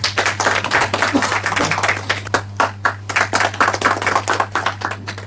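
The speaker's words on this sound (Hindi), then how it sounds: "एक बार जोरदार ताली हो जाए उनके लिए भी।" Hearty clapping from a school audience for a principal and departing students at a quiz-show event, a dense, uneven patter of many hands with a steady low hum underneath.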